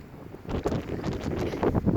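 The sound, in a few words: wind blowing into the microphone outdoors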